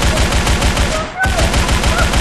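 Rapid automatic fire from a G11 rifle in the Roblox game Arsenal: a dense, continuous burst of loud shots with one very brief gap near the middle, filling the whole stretch.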